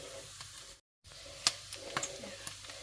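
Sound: Thai larb chili powder sizzling in hot pork fat

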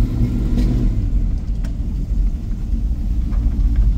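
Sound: 1969 Chevrolet C10 pickup built engine and exhaust running

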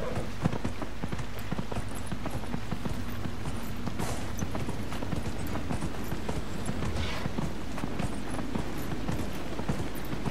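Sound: horse hooves in video game Dragon Age: Inquisition

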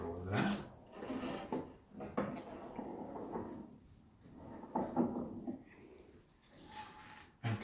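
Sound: drawer of an antique wooden bureau being opened

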